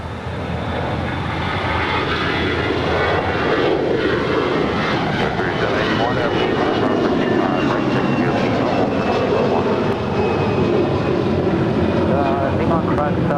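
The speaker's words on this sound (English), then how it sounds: "Asiana Airlines Flight 202 coming in from Seoul. It's an A350-900. This is the next departure there on 24 right." Asiana Airlines Airbus A350-900 departing on runway 24 right at LAX, a loud continuous jet engine roar held throughout, with faint talk underneath.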